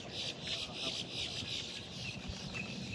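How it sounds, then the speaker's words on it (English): Birds chirp and call in short repeated bursts in a wooded nature area along trails by water. The calls are faint and fairly distant over a soft outdoor background. "hear the sound of the birds"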